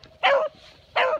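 A young female puppy gives two short, sharp barks about half a second apart, close and fairly loud against a quiet room.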